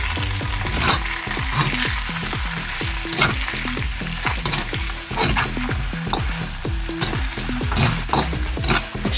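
Potatoes stirred in a frying pan, a loud steady sizzle under a constant run of rhythmic scraping and clattering strokes, heard close and without talk.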